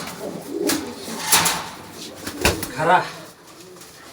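Green-necked pigeons being paired, with soft cooing calls and a few wing flutters at close range, mixed with someone speaking in Bengali.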